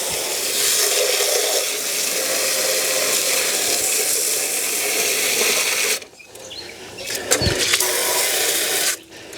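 A loud, steady hiss of water spraying close by inside a Masterbuilt Gravity Series 1050/560 grill for several seconds, then it cuts off, leaving a few clanks and scrapes before a brief final burst.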